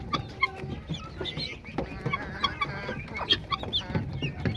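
Native chickens cluck and chatter repeatedly at close range in a backyard flock, with irregular overlapping calls and short squawks over light background noise and no talk.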